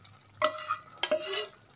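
Chicken pakora frying in hot oil in a home kitchen, soft sizzling under a few sharp stirring scrapes of a utensil against the pan.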